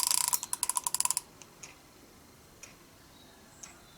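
A vintage fishing reel's ratchet clicks rapidly for about a second, a close, crisp run of evenly spaced ticks that slows and stops, followed by a few faint isolated clicks in a quiet room.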